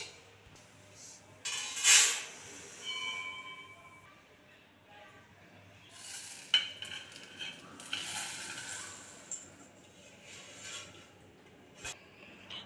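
Roasted urad dal scraped and poured from a pan onto a plate, with a brief loud rattling pour followed by softer scraping and clinks of utensil against metal, faint and close, with someone talking quietly.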